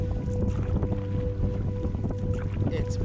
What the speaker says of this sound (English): it's pouring down rain and it's quite windy